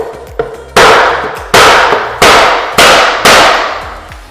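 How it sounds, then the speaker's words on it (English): A hammer strikes a stone veneer test piece five times in a slow, uneven rhythm, each blow a loud, sharp crack close by with a short ringing decay. "So that's not going anywhere with the hammer."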